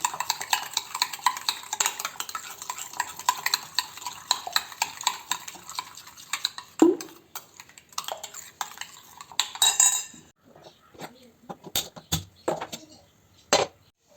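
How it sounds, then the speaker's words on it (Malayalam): Eggs being beaten with ground sugar and cardamom by hand with a spoon make rapid, rhythmic clinking against the bowl for several seconds. A few sharper scattered clicks follow, close by, with no voices. "പൊടിച്ച് വെച്ച പഞ്ചസാര ഏലക്കായി നമുക്ക് ഈ മുട്ടേൻ്റെ അകത്ത് ഇട്ടിട്ട് നല്ലോണം അടിച്ചെടുക്കണം."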